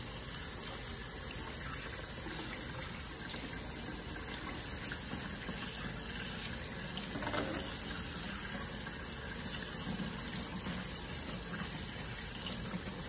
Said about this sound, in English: let's go ahead and just rinse out the seeds